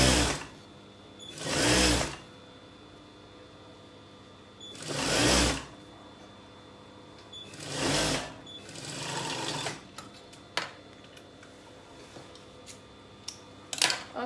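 A sewing machine stitches an A-line pinafore dress in three separate loud bursts of about a second each, with quieter pauses between them, then lighter intermittent mechanical clicks and hum toward the end.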